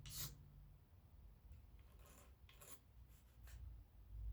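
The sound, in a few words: scraping epoxy off Brown Bess musket stock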